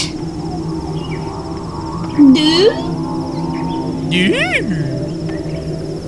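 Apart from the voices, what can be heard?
Electro Squid creature sound in video game Myst III Exile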